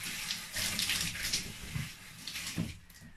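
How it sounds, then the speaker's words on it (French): A running water tap splashes steadily as hands are rinsed beneath it, a close, continuous gush with uneven bursts where the hands break the flow. "laissez-moi juste me rincer les mains quand même"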